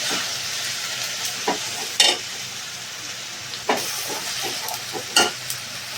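Onion paste frying in oil in a pan for flower chicken, with a steady close sizzle and hiss and several short scraping stirs at irregular intervals.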